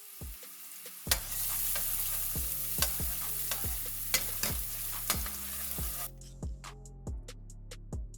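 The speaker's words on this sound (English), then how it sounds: "You're going to let this saute for about 5 minutes or until it's brown." Diced garlic sautéing in a pan for turkey chili, a steady sizzle punctuated by repeated sharp clacks of a utensil stirring and tapping the pan, close and fairly loud.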